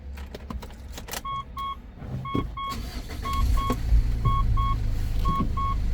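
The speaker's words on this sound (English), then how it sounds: "I'll just jump in the car and I'll just turn it on for you" A 2014 Mitsubishi Pajero Exceed started from inside the cabin: keys jangle, a regular electronic chime beeps repeatedly, then the engine turns over and settles into a low, steady idle rumble beneath the continuing chimes.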